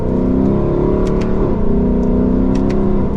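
A Lexus car engine hums loud and close at steady revs through the whole stretch, with slight pitch shifts as the gears change under throttle.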